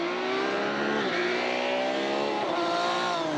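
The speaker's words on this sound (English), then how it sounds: "Honda-powered Fiesta still the best-sounding car on the New Zealand rally roads" A Honda-powered Ford Fiesta rally car screams at high revs on a gravel stage at Rally Otago in New Zealand, a loud sustained engine note rising and dipping through gear changes.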